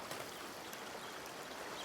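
A river flows in A Plague Tale Requiem as a steady, even rush of water, moderately quiet and continuous with no voices.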